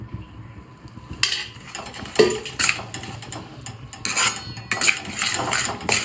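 Oil being stirred into a pan while cooking sheero, with a metal spoon scraping and clinking against the pan in irregular bursts that come close and fairly loud over a quiet kitchen background.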